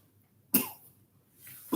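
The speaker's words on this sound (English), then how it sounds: "You look like you've been coughing a lot." A person coughs sharply once, followed by a second cough about a second later, close and fairly loud against a quiet background.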